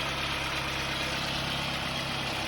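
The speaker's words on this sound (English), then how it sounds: "It just dropped to a regular idle." A 1991 Saturn SL2 engine idles steadily at operating temperature, a continuous low rumbling drone heard close and alone, with no voices.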